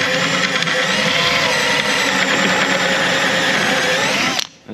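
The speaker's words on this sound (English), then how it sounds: "Drill out all the rivets." A power drill drilling out rivets on a Scania truck whines steadily and loudly at close range for several seconds, then abruptly stops.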